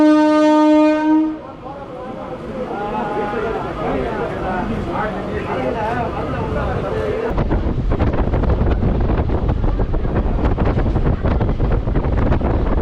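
A passenger train pulls into Manavur railway station on the Tiruttani to Chennai Central line, opening with a long horn blast before a steady, loud rumble of wheels and wind that swells toward the end.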